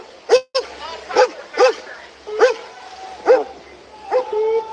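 A police K9 dog at a street protest barks and yips in a run of sharp, evenly spaced barks, loud and close, with a whine toward the end.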